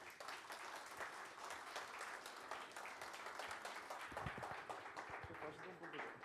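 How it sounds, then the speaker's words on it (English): Audience applause for a guest at a live-streamed event, steady clapping heard fairly faintly and at a distance, continuing throughout with some louder individual claps near the end. "Let's give a round of applause to Mr. Sebastian Burduja."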